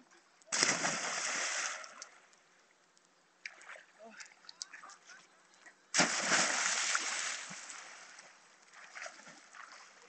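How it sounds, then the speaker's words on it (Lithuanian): Water splashed hard in two big bursts, with smaller sloshes and drips between them, outdoors and fairly close, while people talk and call out nearby. "Ištaškysti vandenį."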